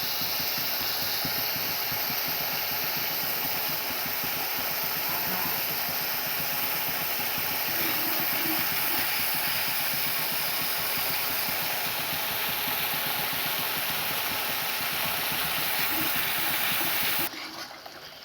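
Water poured into a hot pan of spices boils off at once, a steady broad hiss and rumbling bubbling that holds loud and unbroken for about seventeen seconds, then drops off sharply at the end.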